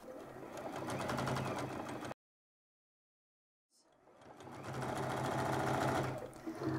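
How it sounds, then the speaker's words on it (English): A home sewing machine runs a seam along the folded edge of a skirt waistband in two loud, steady bursts of rapid rhythmic stitching, separated by a short silent pause, with no talking. "we want to sew one stitch as close to that folded edge as possible"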